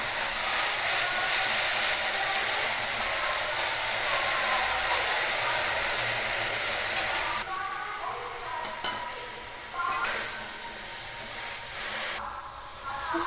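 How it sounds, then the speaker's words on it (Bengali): Pumpkin leaves with salt and turmeric frying in a pan: a moderate steady sizzle with scraping stir strokes and a few sharper knocks of the spatula as the leaves cook down. "এবার ভালো করে ভেজে নেব পাতাগুলো, একটু বেশি টাইম লাগবে ভাজতে,"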